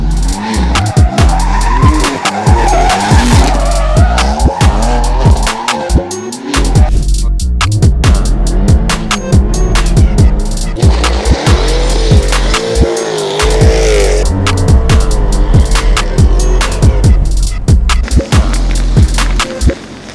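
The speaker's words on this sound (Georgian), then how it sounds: "ეს არის ჩვენი პირველი გასვლა დრაგის და ვნახოთ როგორ დასრულდება ამ ორი მონსტრის პირველი დრაგის სერია" A BMW M3 and a Jaguar Type R launch in a drag race, their engines revving hard in rising and falling sweeps over loud, sustained tire squeal and skidding. The sound is close and intense throughout, with no voices.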